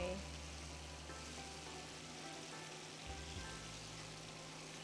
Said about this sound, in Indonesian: Ini aku mau goreng 2 kali dulu ya. Biar dia lebih garing.